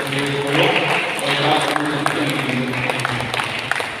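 A church congregation applauds a birthday, dense overlapping hand claps filling the room at a steady level, mixed with murmuring voices.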